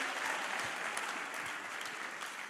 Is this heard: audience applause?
yes